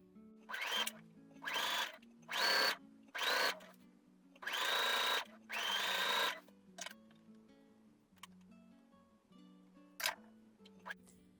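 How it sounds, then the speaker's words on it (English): A sewing machine stitches bias binding onto a jumpsuit armhole edge in several sustained bursts of whirring, each one to two seconds long, close and clear, followed by a few sharp clicks and quieter pauses. "I'm going to sew this all the way around onto the armhole edge."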